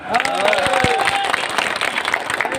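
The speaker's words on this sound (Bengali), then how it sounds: "সবাই হাততালি দেন" An audience at an annual company picnic and cultural event bursts into dense, sustained clapping for a prize winner, with a voice talking over the applause.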